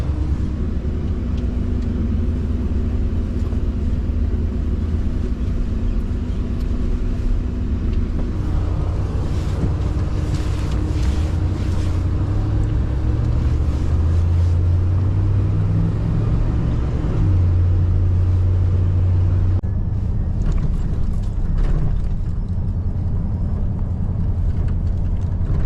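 A second-generation Dodge Ram pickup rolls over a bumpy road, giving a steady, loud low rumble of engine and road noise with some shifts in pitch and occasional knocks, and no speech.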